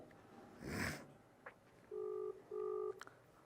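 A brief burst of noise is followed by two evenly spaced ringback tones from a phone line, quiet and steady, with a faint click between them.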